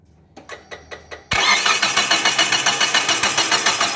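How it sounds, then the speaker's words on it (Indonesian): A car engine with a faulty camshaft position sensor is cranked by the starter: a few quiet rhythmic chugs, then a louder, steady run of fast cranking pulses that never catches into a running idle. "kemudian kita starter lagi, tidak akan bisa hidup lagi"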